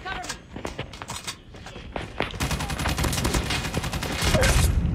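Rapid gunfire in a shooter video game, bursts of sharp cracks building in density over a busy game soundscape, with a player talking throughout.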